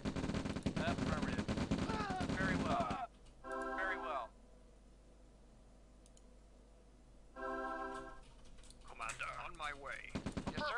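Rapid bursts of gunfire in the video game Red Alert, playing as the Allies, with speech before and after, and two brief tonal electronic blips in a quieter middle stretch.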